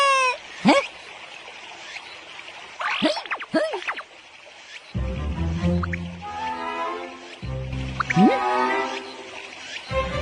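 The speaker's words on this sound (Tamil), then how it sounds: "எல்லாம் ஜாலியா தண்ணியில விளையாடுதுங்க" Cartoon children playing in river water, with splashing and dripping water under high, excited voices and squeals that come and go, plus a few sustained musical tones.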